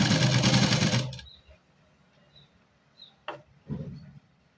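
Sewing machine stitching fabric in a continuous loud whirring run for about a second, followed by quiet handling, faint clicks and a short thump.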